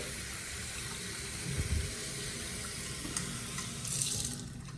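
Tap water runs steadily over a Casio G-Shock Rangeman GW9400 watch being cleaned under a faucet, a close continuous splashing hiss that shifts slightly as the watch is moved, with no talking.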